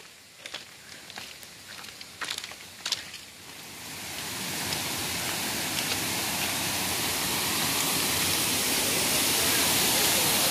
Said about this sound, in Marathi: तर हे बघा, धबधब्यावर पोहोचला आणि धबधबा बघा किती भारी सुंदर वाटतं अगदी।